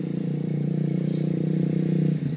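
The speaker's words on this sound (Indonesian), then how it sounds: "motor lewat" A motorcycle engine drones loudly and steadily nearby as it passes along a road, a close continuous rumble that fades slightly at the end.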